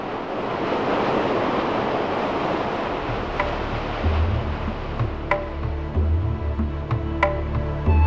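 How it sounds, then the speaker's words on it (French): Ocean swell rolls and breaks against rocks on the coast at Quiberon, a continuous roaring wash of surf with deep low rumbles, buffeted by wind noise and a few sharp splashes near the microphone. "la houle et le ressac des vagues"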